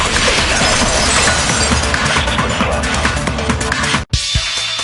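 A vase shatters in the video game Danganronpa 2, a loud, dense crash of breaking ceramic and glass-like debris that fills the clip. It cuts off abruptly near the end, followed by a brief quieter tail.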